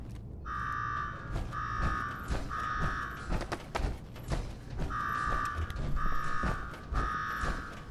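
An alarm blares in Fallout 4's Nuka-World, sounding as loud repeated buzzing tones in bursts: three close together, a pause filled with thuds and clatter, then three more.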